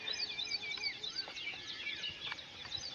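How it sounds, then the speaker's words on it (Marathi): Several small birds chirp and twitter in a quiet rural setting beside a maize field, with quick high calls repeating throughout at moderate distance and no voices. "फक्त पक्ष्यांचा आवाज येतोय बघा."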